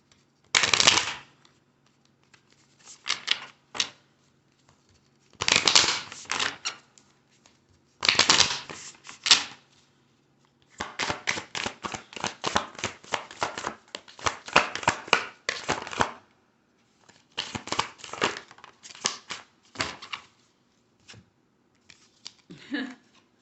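Self-care oracle cards being shuffled for a tarot-style reading, with repeated bursts of riffling and flicking separated by short pauses, close and fairly quiet, with no talking.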